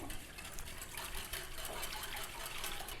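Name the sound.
a cup of water being poured into yogurt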